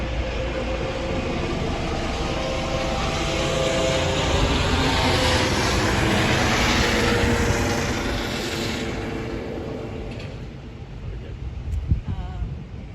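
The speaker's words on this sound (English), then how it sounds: "Hold on a second. That helicopter." A helicopter flies overhead during an outdoor football-team interview. Its broad, steady rumble swells louder through the middle, then fades away, with faint voices underneath.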